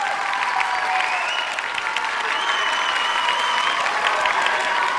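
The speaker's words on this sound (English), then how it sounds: "if you think your teachers won that debate, can I have a round of applause, please?" A large audience gives a sustained round of applause at a school speech debate, thick and continuous clapping at an even level throughout, with some cheering and crowd voices mixed in.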